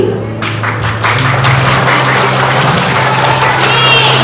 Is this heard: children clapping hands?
yes